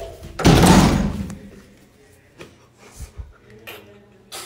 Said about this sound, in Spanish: Cuando chocas con la puerta.